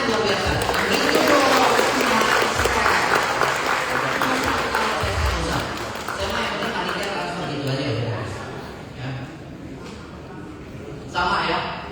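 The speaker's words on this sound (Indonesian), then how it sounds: "Berikan tepuk tangan yang luar biasa" An audience at a sales seminar applauds loudly and at length. The clapping swells, then gradually thins toward the end, while a voice speaks over it.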